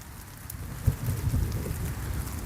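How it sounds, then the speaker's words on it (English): Rain falls outdoors in the Sebastian Scrub Conservation Area, a dense steady hiss of drops with heavier splashes close by and a low rumbling undertone, continuous and without speech. "It is raining."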